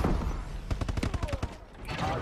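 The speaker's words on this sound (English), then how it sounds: "Some guy was shooting at me." Rapid bursts of video game gunfire in a first-person shooter, a quick run of sharp shots in the middle with denser background noise around them.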